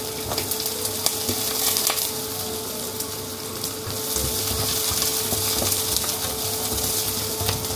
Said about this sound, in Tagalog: isusutayin na natin yung ating onions and garlic